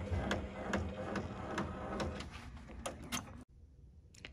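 Multi-needle embroidery machine sewing an appliqué placement stitch, a quick steady mechanical ticking over a whirring hum that stops abruptly, followed by near silence with a couple of faint clicks.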